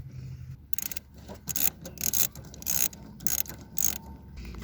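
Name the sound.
13mm ratchet removing bolts on Jeep AC lines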